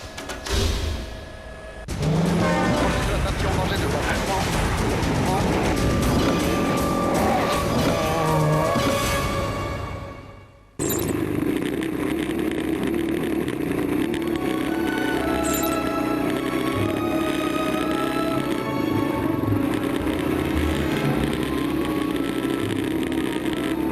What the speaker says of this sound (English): Coming next in the cars, Stevan Pederhansel just has 29 kilometers to go.